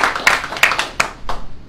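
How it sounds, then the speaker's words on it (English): A church congregation claps for a woman in a short burst of applause, with uneven clustered hand claps close by and a few louder individual claps standing out. "Can we give her a hand clap?"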